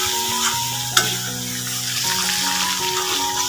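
Chicken kosha with pumpkin stems frying in a pan, a close, steady sizzle with stirring clatter and one sharp clink of a utensil against the pan.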